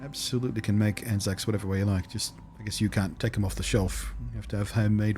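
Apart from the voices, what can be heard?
No everyday noise stands out behind the speech.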